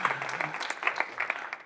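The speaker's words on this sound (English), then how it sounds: "Give a round of applause for the men." An audience at a business seminar gives a short round of applause, a brief, fairly soft patter of clapping hands heard alone.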